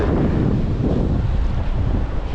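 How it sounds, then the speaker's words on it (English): Steady, loud wind buffeting a microphone on an empty New Zealand coast in the Catlins, a continuous low rumble with no pauses and no voices. "It's a bit windy"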